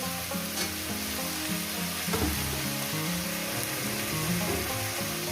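Whole cumin seeds with green and dried red chillies frying in hot oil, a dense, loud and continuous sizzle heard close, with occasional stirring scrapes.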